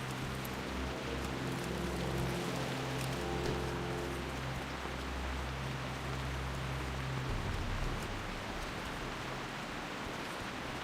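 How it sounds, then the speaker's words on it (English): Rain in World of Warcraft Classic, a steady, dense hiss of rainfall that continues evenly throughout, with a low droning hum underneath for most of its length and no voices. "Well, I like the rain."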